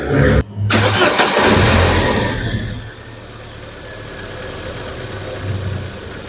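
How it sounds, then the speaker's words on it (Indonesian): A Chevrolet Blazer engine, freshly overhauled, starts with a loud burst, then settles into a steady, smooth idle hum that continues evenly to the end. "mesin menyala normal, dan untuk suaranya lebih halus ya dari sebelumnya"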